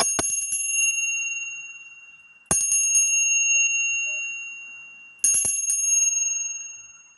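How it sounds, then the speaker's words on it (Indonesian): A bell is struck three times at a slow, even pace, each bright metallic strike ringing out clearly and fading away before the next. "dimulai dengan tanda lonceng berbunyi"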